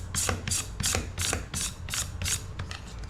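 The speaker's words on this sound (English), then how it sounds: "we're just going to simply hold this up and just kind of scrape this across the paddle" A knife scrapes spines off a cactus paddle in a steady rhythm of about eight short, crisp rasping strokes, close and fairly quiet, with no talking.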